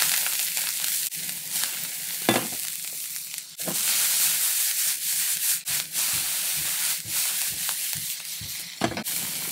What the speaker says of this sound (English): Throw our onions in.